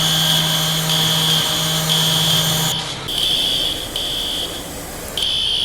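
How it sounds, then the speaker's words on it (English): Smoke alarms beep in the EmergeNYC firefighting video game: a steady high electronic tone sounds loud and close, with a low hum under the first half. The tone then cuts into repeated on-off pulses, with no talk. "we do have the very annoying alarm sounds"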